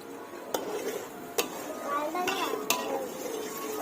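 Sugar syrup for boondi laddu being stirred in a pot, with a spoon scraping steadily and four sharp metallic clinks against the rim, close and moderately loud.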